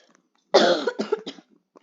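A sick man coughs close to the microphone, one harsh burst followed by two or three shorter hacking coughs, with a faint breath trailing after.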